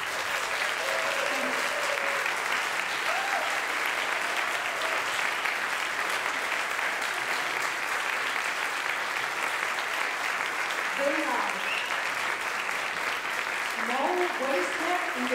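Concert audience applauding a tango orchestra, sustained dense clapping throughout at moderate distance, with faint voices and scattered cheers near the end.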